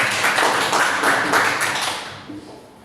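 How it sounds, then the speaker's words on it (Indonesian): An audience claps for a colleague during a teacher-training session on positive school culture: a brief burst of close clapping that fades out after about two seconds, leaving a quiet room with a faint tap. "Tepuk tangan buat Pak Pri."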